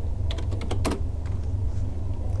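Close, crisp keystrokes on a computer keyboard while C++ code is typed, a quick irregular burst of clicks over a steady low hum.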